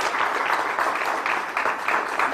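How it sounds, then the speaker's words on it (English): Audience applause at a press conference on recent gun crimes in Philadelphia: steady, dense clapping from a crowd, moderately loud and continuous with no voices over it. "So give them another round of applause."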